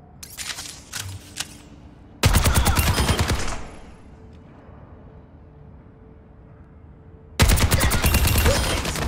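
Weapon gunfire in the Overwatch 2 tutorial, with a few short bursts followed by two long sustained volleys of rapid shots, loud and close, separated by quiet stretches.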